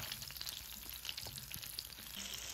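Garlic, onion and tomatoes sauté in a pan for a taco salsa, giving a steady, faint, even hiss of frying with no voices.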